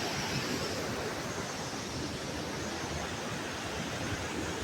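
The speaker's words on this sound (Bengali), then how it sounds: "জাস্ট জলের সাউন্ডটা শুনো তোমরা।" Dense, steady rushing water roars near a waterfall on a boat ride, a broad continuous wash of noise with wind, loud and unbroken throughout with no talking.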